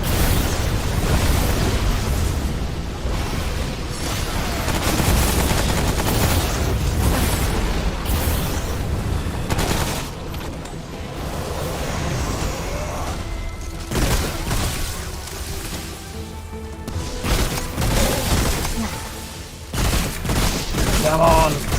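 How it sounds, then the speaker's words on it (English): Enemy gunfire in the video game Remnant: From the Ashes, a near-continuous barrage of shots and booming blasts that keeps going throughout, with a voice speaking over it now and then. "They're shooting on me"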